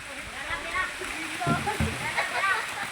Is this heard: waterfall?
yes